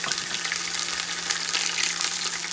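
Grated ginger sizzles as it hits browned onions frying in a pan for vegetable pulao. The hiss is steady and crackling, close and moderately loud, with no talk over it.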